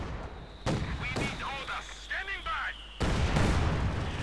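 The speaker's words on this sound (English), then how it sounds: "the sniper took a direct hit there from the mortars" Mortar shells exploding in Company of Heroes 2, a few muffled distant booms beneath a commentator talking over the match, followed by a louder burst of explosive rumble near the end.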